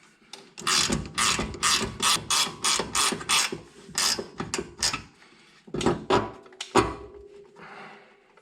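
A 14 mm ratchet wrench backing out the bolt through a pillow ball bearing on an FD RX-7's rear suspension, rapid loud ratcheting clicks in quick rhythmic bursts with brief pauses and a few clunks, close up and without speech.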